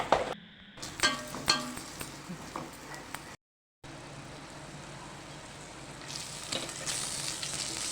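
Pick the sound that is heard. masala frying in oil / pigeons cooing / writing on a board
masala frying in oil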